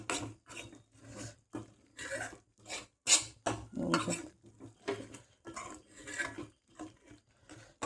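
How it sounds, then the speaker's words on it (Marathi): Paneer masala being stirred and sautéed in oil in a pan over medium heat, with a steady run of close scraping and clinking strokes from utensil on pan, repeating in a loose rhythm, no talk. "तेल सुटेपर्यंत परतून घेते"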